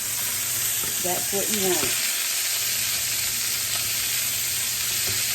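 Beef tenderloin steak searing in a hot pan, a steady loud sizzle throughout, with someone talking briefly over it near the start.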